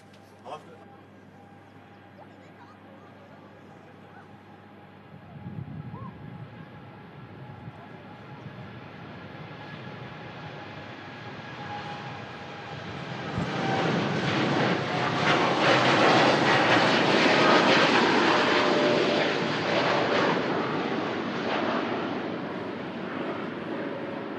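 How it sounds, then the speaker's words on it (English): A Qatar Airways Boeing 787-9 Dreamliner departs from Manchester Airport, its jet roar building from a distant rumble to a loud, broad wash of engine noise before easing slightly. Occasional talk is heard over it. "Qatar Airways. 787-9 Dreamliner heading off to Doha."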